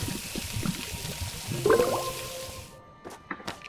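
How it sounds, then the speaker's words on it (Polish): Water pours in the LEGO Harry Potter video game, a sloshing liquid gush with a bright rising tone, followed by a few scattered drips and taps as it ends. "no to nalejmy tu wody"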